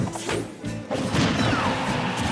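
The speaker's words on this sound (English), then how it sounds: "We call those volcano smashes." A volcano smash lands in Super Smash Bros. 4 during a Sonic versus Mewtwo tournament match, a sharp crashing hit over busy game noise and crowd, with a short thudding impact near the start and a sustained loud wash after.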